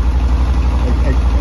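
A Suzuki VS 1400 motorcycle engine idles with a steady, low, rhythmic throb, loud and close, continuing evenly throughout.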